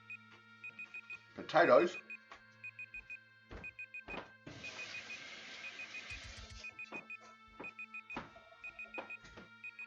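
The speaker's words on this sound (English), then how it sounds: "I will stop that alarm sound in a moment" A repeated electronic alarm beeps in short, evenly spaced bursts through a home cooking session, sounding under and between a person talking, with some kitchen clatter.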